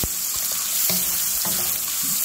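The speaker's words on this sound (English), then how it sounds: "Now I am adding the finely chopped watermelon rinds." Finely chopped watermelon rinds with the dark green part removed drop into a hot curry pan, giving a steady close frying sizzle with a few clattering stirs and knocks spread over the moment.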